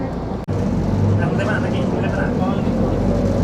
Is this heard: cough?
no